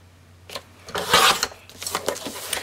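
Paper trimmed after being folded in half for a clasp envelope scrapbook album, a short close scraping, rasping cut that builds to a louder burst near the middle, then continues in lighter strokes.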